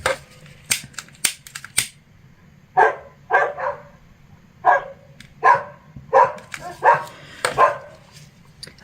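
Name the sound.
dogs barking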